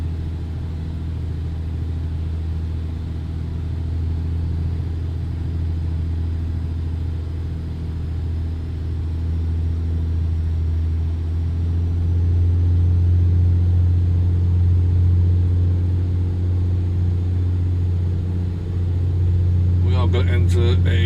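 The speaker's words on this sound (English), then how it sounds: "You can hear the turbo whine a little bit more." Turbocharged engine of an A36 Bonanza TC in a flight simulator, heard from outside as a steady low drone with a faint high whine above it, swelling slightly louder partway through.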